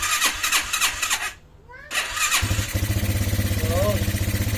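A Motorstar Classic motorcycle under restoration is cranked on its starter with rapid pulsing bursts, goes briefly quiet, then fires and settles into a steady, even idle. The engine is loud and close, and a voice speaks over it.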